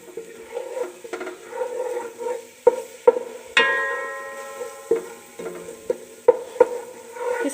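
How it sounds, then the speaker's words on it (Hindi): Garlic with tikka masala, oregano and chili flakes sautéing in oil for a chicken vegetable pasta: soft sizzling under intermittent spoon scrapes and taps against the pan, with one brighter clink partway through, and no talking. "अब इसको ऑयल के अंदर सौते कर लेंगे।"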